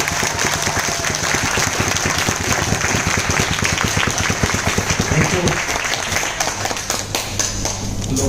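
Sustained applause from an audience at a seminar talk, dense and steady clapping filling the whole stretch at close range, with a few faint voices mixed in.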